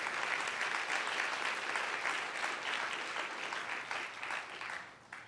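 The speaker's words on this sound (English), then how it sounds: "Let's give another round of applause for our four presenters." Audience applause for four presenters at the Rockefeller Foundation Centennial, a full crowd clapping steadily and loudly throughout, tapering slightly near the end, with no talking over it.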